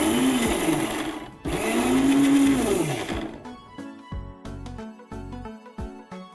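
Mixer grinder pulsing cashews and charoli into powder, whirring loudly in two short bursts of about one and a half seconds each, then stopping as the ground nuts rattle and settle with light clicks.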